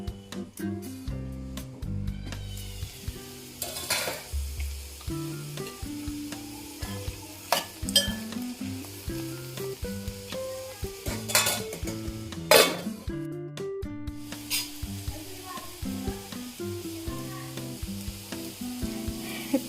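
Bitter gourd frying in a pan, with a steady close sizzle under a run of stirring scrapes and occasional utensil knocks against the pan, no talking.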